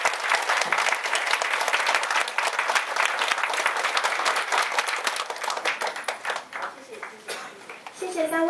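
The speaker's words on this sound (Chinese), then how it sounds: "请各位再次以热烈的掌声感谢三位讲座" An audience at a workshop panel discussion applauds to thank the speakers. Busy clapping from many hands runs strong, then thins and tapers toward the end, with voices murmuring underneath.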